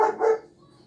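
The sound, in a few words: dogs barking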